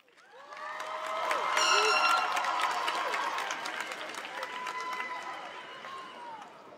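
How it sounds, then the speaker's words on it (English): An audience at the Whites Creek 2023 high school graduation ceremony applauds, the clapping and cheers swelling to a peak then slowly fading, with faint crowd voices mixed in. "Please give a round of applause for Minoza Abdullahi as she recognizes more"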